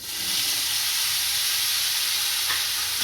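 Gunda (Indian cherry fruit) fries loudly in hot oil with hing, garlic and crushed cumin for a Kathiyawadi shaak, a steady, dense, close hiss with no talk.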